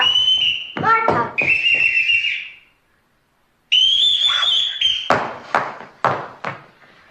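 A shrill whistle blows a series of signal calls, a few sustained piercing tones alternating with short sharp bursts, pausing in silence before a second round with quick staccato blasts.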